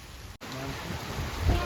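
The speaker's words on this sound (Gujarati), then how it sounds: "વરસાદ ચાલુ થઈ ગયો છે બરાબરનો." Heavy monsoon rain driven by strong wind at a farm in rural Gujarat roars as a dense, loud, continuous wash that cuts out very briefly and then swells with gusts.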